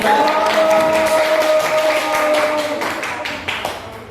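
Students in a classroom applaud after a group presentation, a lively patter of hand claps with a few voices mixed in, gradually thinning toward the end.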